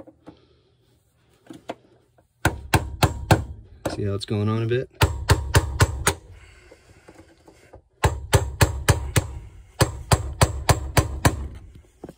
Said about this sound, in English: So I'm gonna hammer this bad boy in there and make sure it locks.